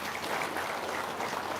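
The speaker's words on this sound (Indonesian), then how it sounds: "Tepuk tangan dong." Audience at an Islamic religious gathering applauding, a steady, fairly faint wash of clapping hands with no pauses across the short stretch.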